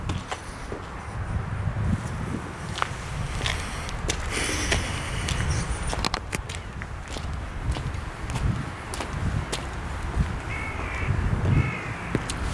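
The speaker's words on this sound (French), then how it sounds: "On entend un corbeau." A crow caws repeatedly in a cemetery, harsh calls rising over steady outdoor ambience with footsteps and some distant traffic, moderately close and clear.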